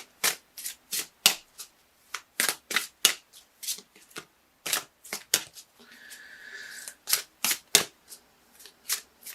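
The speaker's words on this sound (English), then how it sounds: "I'm just looking at these cards over here as I shuffle." Tarot cards shuffled by hand in a quiet room, a series of crisp, close riffling snaps and flicks in irregular bursts, with one brief softer rustling stretch in the middle.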